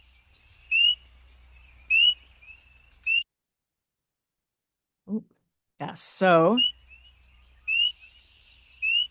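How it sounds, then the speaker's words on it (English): Spring peeper frogs call on a spring night, their sharp, high peeps repeating about once a second and fairly close. A short spoken interjection breaks in midway while the chorus pauses. "this, of course, is our spring peeper, the quintessential sound of spring"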